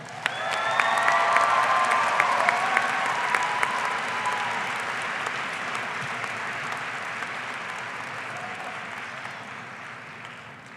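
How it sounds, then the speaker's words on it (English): Commencement ceremony crowd at Pikes Peak Community College in 2019 giving a round of applause for a student: dense, sustained clapping from a large audience with a few whistles and cheers early on, gradually fading. "Please give Charbul a round of applause"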